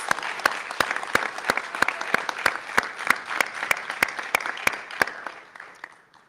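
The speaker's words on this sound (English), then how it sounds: "Let's give our first-year PhD students another round of applause" Audience applause at a Meharry Medical College white coat ceremony honours first-year PhD students, a steady wash of many hands with sharp regular claps standing out, fading away over the last second.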